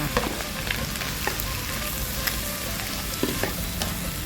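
Napa cabbage being stir-fried in a hot pan, a continuous sizzling hiss with scattered light clicks and scrapes of stirring, close up and without talk.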